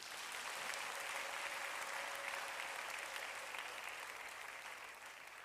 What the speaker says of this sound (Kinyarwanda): Twayikomera amashyi.